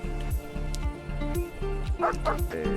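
A dog in the Mr. Prepper video game gives a run of repeated, evenly spaced barks and yips, loud and close, with game sounds underneath.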